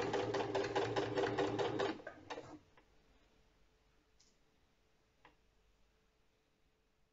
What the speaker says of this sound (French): on démarre la surpiqûre. Donc on a dit à un demi-centimètre du bord.